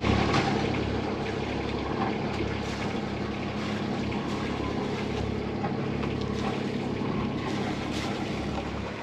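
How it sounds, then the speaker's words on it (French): A sailboat sets off under sail in the Gulf of Pinarello in a strong 25–35 knot wind. Loud, steady rushing wind and water fill the whole stretch without a break. "c'est parti sous voile dans le golfe de Pinarel"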